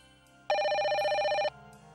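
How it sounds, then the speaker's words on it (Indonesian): A telephone rings once in a steady, loud electronic trill lasting about a second, standing out clearly against a quiet room tone with no speech over it. "banyak telepon masuk mencari penanggung jawab program siraman rohani"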